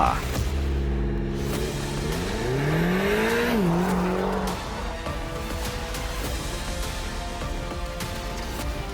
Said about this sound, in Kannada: ಇತ್ತ ವಿರಾಜ್ ಫಾಸ್ಟ್ ಆಗಿ ಕಾರ್ ಡ್ರೈವ್ ಮಾಡೋಕೆ ಶುರು ಮಾಡ್ದ